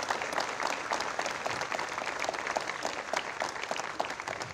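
An outdoor Veterans' Day ceremony crowd claps steadily for city councilors, a dense, even wash of many hands held at moderate volume across the whole stretch.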